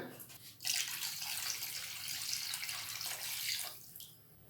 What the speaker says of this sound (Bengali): এবারে জলটা আমরা দিয়ে দেবো বেশি করে একটু জল দেব কারণ অনেকক্ষণ ফোটাতে হবে